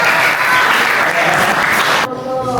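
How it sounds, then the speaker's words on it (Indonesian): Applause from a seated audience at a motivational class in an Islamic boarding school, a dense steady wash of many hands clapping that cuts off abruptly near the end. "Tepuk tangan Ustaz Gaji."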